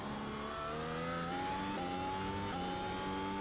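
A Mercedes F1 W12 engine in iRacing at Hockenheim howls as it accelerates, its pitch climbing steadily and then briefly dropping at each upshift, loud and continuous.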